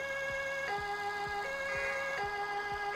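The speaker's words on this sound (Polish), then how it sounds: "Włączam syreny, żeby nie było." Wailing emergency-vehicle sirens from the Roblox game Emergency Emden, a steady electronic two-tone siren cycling loudly and continuously, with faint low thuds beneath and no talking.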